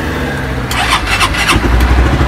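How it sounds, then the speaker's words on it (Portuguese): A Honda Mix 150 motorcycle starts after cranking, with a burst of starter chatter followed by the engine catching into a loud, close, rumbling idle. "a moto vai ligar de primeira, entendeu?"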